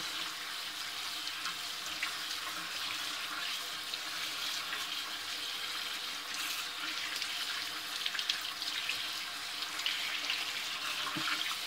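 Tap water running steadily at full flow into a sink for handwashing, a continuous close hiss throughout with slight splashing variations near the end.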